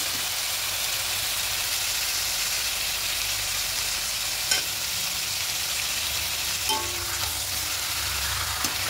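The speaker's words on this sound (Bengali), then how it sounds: "খুব ভালো করে মিশিয়ে নেব।" Chicken biryani ingredients with salt are stirred and mixed in a pan, a continuous frying hiss with a couple of brief metallic scrapes of the spoon, steady and close.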